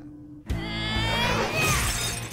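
Glass shatters in a sudden loud crash that bursts out after near silence and keeps ringing and scattering with bright, dense debris for nearly two seconds.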